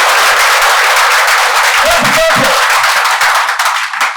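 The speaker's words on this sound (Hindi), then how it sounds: "मारो ताली।" Loud, dense applause from an audience at a business seminar in Surat, steady clapping that fills the room and begins to thin toward the end.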